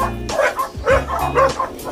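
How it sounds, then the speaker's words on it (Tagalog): Several dogs barking and yipping close by in a yard, quick overlapping barks with a whimper, loud and lively over a short burst. "Daming aso talaga."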